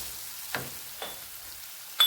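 Garam masala and ground coriander being stirred in a hot frying pan: faint, soft scrapes come at roughly half-second intervals, the last one slightly louder, over a quiet low sizzle.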